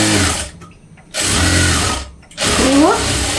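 Sewing machine stitching a blouse, running in two loud, steady bursts separated by short pauses, with a brief voice near the end.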